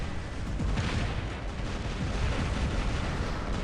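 Constant loud video game gunfire as robots shoot each other, a dense, unbroken wash of blasts and booms with no pauses.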